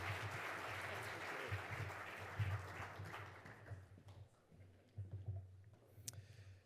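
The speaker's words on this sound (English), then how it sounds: "Big round of applause for our speakers." Audience applause at a trails conference, a broad wash of clapping that swells early and fades after a few seconds, leaving a quieter room with scattered claps and a low hum underneath.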